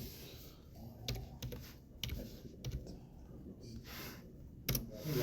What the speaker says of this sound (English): You just type it in.